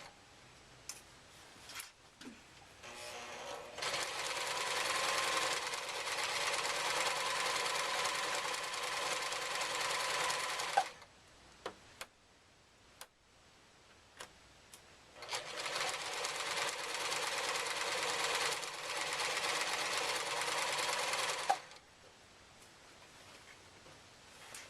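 A sewing machine runs in two steady, whirring bursts of about seven seconds each as it seams around a simple knitting project bag. Brief ticks and handling noises fill the pause between the runs.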